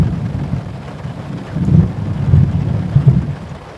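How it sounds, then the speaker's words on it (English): Heavy rain drums steadily outside a van during a thunderstorm, with low rolling thunder swelling in two rumbling waves and some wind buffeting, no voices. "There's been a bunch of thunder and lightning."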